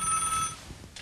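A landline telephone rings inside a 1970s bomb shelter where mobile signal does not reach, giving one loud electronic ring near the listener that then fades out.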